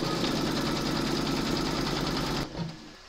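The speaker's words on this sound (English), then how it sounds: "Pop your hoop into your machine and stitch round number 7" Embroidery machine stitching a remembrance quilt panel in a hoop, a fast steady mechanical whir with rapid needle pulses that stops abruptly near the end.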